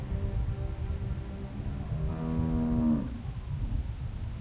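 A cow moos once in a low, drawn-out call inside The Walking Dead video game, sounding close over a steady rumble of rain in the background.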